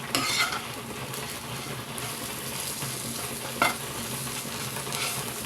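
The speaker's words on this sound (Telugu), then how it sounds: "ఇది చక్కగా ఫ్రై అయింది కదా ఇప్పుడు మొత్తం కలిపేసుకుందాం" A chilli-garlic onion mixture frying in a pan is stirred with a spatula, soft steady sizzling with occasional scrapes and one sharper clink against the pan.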